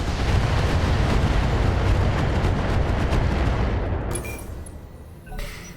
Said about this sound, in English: Something's just exploded.